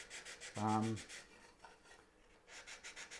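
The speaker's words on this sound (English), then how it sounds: "So it's just a matter of light sand just to take the edge off it." A timber edge for a dovetailed tray gets a light sanding: soft, rhythmic rasping strokes back and forth, close and fairly quiet, with a brief low tonal sound near the start.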